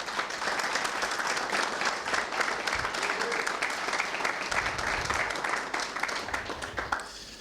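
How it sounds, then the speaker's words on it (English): A round of applause at the Dash Convention Europe 2019, an auditorium audience clapping steadily for several seconds, moderately distant, fading at the end. "Can we please give them a round of applause?"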